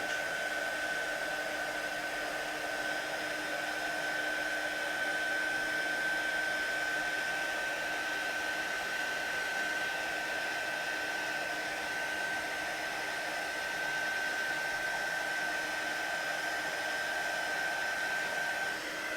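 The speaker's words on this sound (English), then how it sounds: "just using my heat gun, we're going to hold the heat gun still" A heat gun held still over a card to melt embossing powder blows a steady, even whoosh with a faint high whine, constant and close, running alone without any talking throughout.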